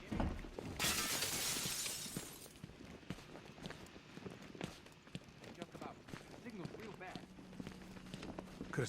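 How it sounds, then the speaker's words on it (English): Glass shattering in Batman: Arkham Knight, a bright burst of breaking glass lasting nearly two seconds, followed by scattered clatter, footsteps and voices. "Could have sworn I heard broken glass."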